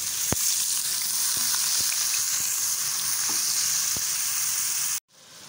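Two medium chopped onions fry in a pan with cumin seeds, a loud, steady close-up sizzle broken by a few sharp clicks before it cuts off abruptly at the end.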